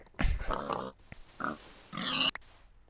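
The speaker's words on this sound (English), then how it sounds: "It's a pig." A pig in Minecraft gives several short, close grunting oinks, each a separate snort with short gaps between them, alone and fairly quiet.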